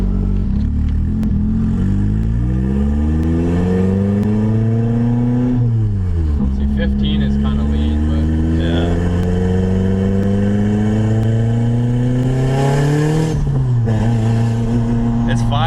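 A Nissan 240SX running a turbocharged KA24DE engine pulls hard through the gears, its rising engine note climbing, dropping at a shift near six seconds and climbing again, loud and steady from inside the car.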